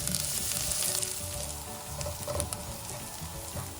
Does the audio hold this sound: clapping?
no